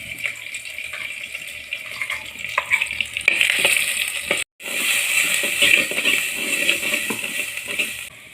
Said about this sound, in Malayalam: നമ്മളെ അരച്ച് വെച്ച മസാല അതിലേക്ക് ചേർത്ത് കൊടുക്കുന്നുണ്ട്.